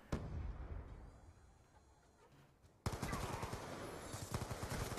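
Gunfire in the Call of Duty Black Ops 2 video game, a sharp shot at the start, then dense sustained firing and bursts in the second half, with a little speech.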